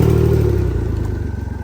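A 2024 Can-Am Ryker three-wheeled motorcycle engine runs close by with a steady, throbbing idle that settles slightly after the first half second. No one speaks.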